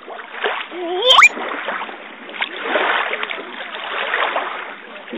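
Small waves splash and wash along a beach shore at close range in a steady, uneven rush, with a child's brief squeal and an adult voice talking over it.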